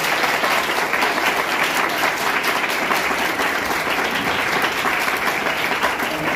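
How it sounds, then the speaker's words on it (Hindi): Loud, dense applause from a school audience at a Hindi Diwas event fills the air continuously and evenly, many hands clapping together without pause. "इनके लिए जोरदार तालियां।"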